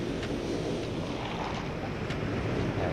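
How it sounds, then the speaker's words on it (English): Sea waves in the video game Myst form a constant dense wash of surf, steady and fairly loud with no pauses, heard alone without talk. "I guess it was just the sea."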